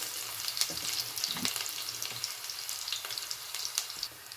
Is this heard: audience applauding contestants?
no